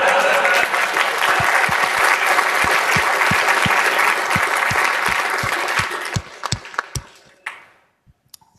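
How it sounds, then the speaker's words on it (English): An audience at a talk on DNA sequencing with Linux cores and nanopores breaks into loud, dense applause that holds steady for several seconds, then thins to a few scattered claps before fading out. "I think that needs another round of applause, eh?"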